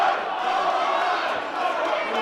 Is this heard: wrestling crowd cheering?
yes